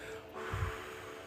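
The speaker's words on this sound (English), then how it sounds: "when you breathe out, you blow it out like you're blowing out a candle" A single forceful breath pushed out through the mouth, like blowing out a candle, during a guided morning meditation and stretch session. It comes as one short, breathy burst in the middle of an otherwise quiet moment.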